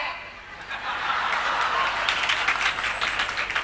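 An audience claps in a brisk, crackling patter that swells after a quieter start, with voices and chuckles mixed in beneath the applause.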